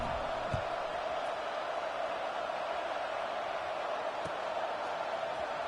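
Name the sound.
football stadium crowd buzzing after a score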